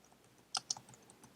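A couple of crisp keystrokes on a computer keyboard, two distinct clicks close together, then quiet.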